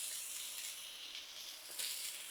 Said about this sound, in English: I love hearing that meat hit that griddle and that sizzle.